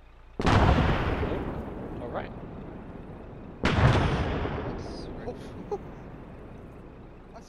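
Two heavy bomb blasts in the military game Arma 3, each a sudden loud boom that rolls off into a long rumbling decay, a few seconds apart, with brief talk in between.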